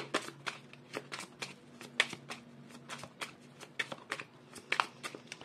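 Tarot cards shuffled again and again in a steady, rapid riffle of crisp paper snaps, close and fairly quiet, with a faint low hum underneath and no voices.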